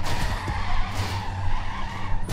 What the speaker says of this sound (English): I got run over by a bunch of trucks.